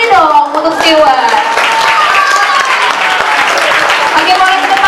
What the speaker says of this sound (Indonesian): Tepuk tangannya dong untuk Stewart.